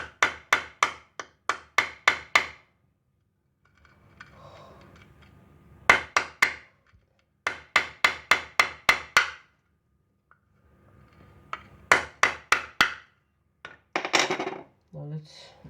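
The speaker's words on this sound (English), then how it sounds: "Let's hammer it even more." A hammer strikes ceramic tile in rapid bursts of sharp, close taps, five to eight blows per run, separated by quiet pauses with faint handling and rustle.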